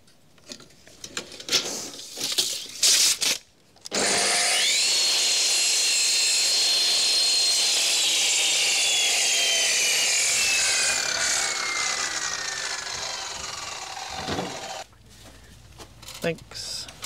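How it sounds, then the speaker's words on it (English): Old sealer being scraped off the trim of a 1975 Viscount caravan: a long, loud, continuous rasping scrape lasting about ten seconds, with brief scrapes and a voice before and after it. "I want to just clean away all of the old sealer from here."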